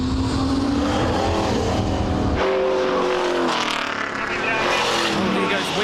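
Race cars at a retro motorsport event, including a very fast Mustang muscle car, roar loudly as engines accelerate and pass, the pitch rising and shifting, with a commentator talking over the engine noise.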